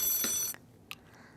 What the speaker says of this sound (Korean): 전화 지금 오고 있거든요